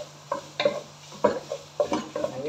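Bitter gourd tossed into browned pork in a pan, heard as a series of close, sharp stirring scrapes and clatters in an irregular rhythm over a faint sizzle.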